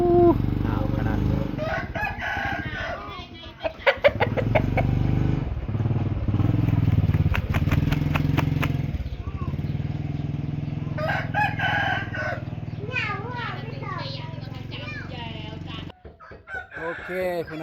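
Roosters crow repeatedly and chickens cluck at a Thai farmyard, several drawn-out crows rising and falling across the clip over an engine rumble, with voices talking at times.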